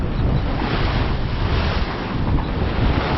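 Wind and ocean waves aboard an Island Packet 420 sailboat on open sea, a loud continuous rushing wash with heavy wind buffeting and no talk.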